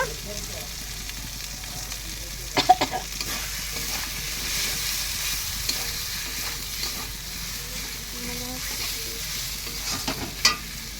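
Spices with turmeric frying in oil in a pan, a steady soft sizzle with occasional stirring scrapes and clinks, close and fairly even throughout.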